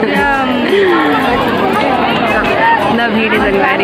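A large crowd at a Shiv Mahapuran religious gathering in Kaudiya, Durg chatters all at once, many overlapping voices close by forming a loud, continuous hubbub.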